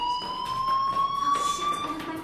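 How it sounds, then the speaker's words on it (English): A school fire alarm rings inside the video game Life is Strange, a loud steady electronic tone that drones continuously throughout with faint background sounds beneath it. "do you hear that fire alarm?"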